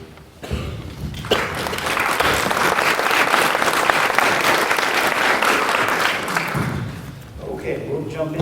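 An audience at a chamber of commerce candidate forum breaks into sustained, loud applause for about six seconds, a dense clapping roar that fades out near the end with a few thuds.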